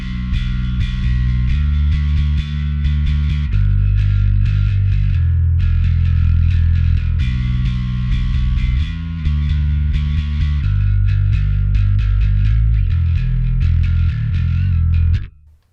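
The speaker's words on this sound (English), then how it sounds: "Let's try it now with the Darkglass and the distortion." Bass guitar driven through a Darkglass distortion pedal, a thick, gritty sustained tone with growling overtones, played continuously and loudly for about fifteen seconds before cutting off abruptly.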